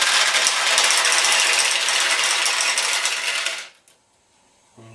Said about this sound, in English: the balls will flow from the play tray to the receiving tray